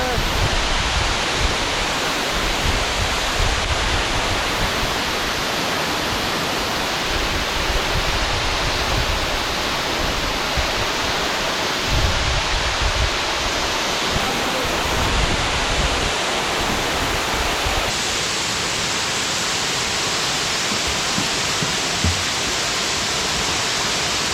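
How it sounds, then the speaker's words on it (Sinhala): Sudagala waterfall rushes as a steady, dense roar of falling water that fills the whole stretch without a break. "මේ සූදකල ඇල්ල ගාවට"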